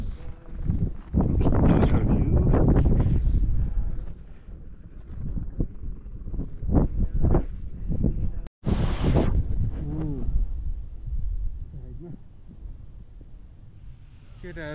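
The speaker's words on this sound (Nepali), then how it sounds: "यस्तो हावा चलिरहेछ" Strong wind buffets the microphone on a mountain trek toward Tilicho Lake, with loud gusty roaring that rises and falls, mixed with rustling. A person speaks briefly over it.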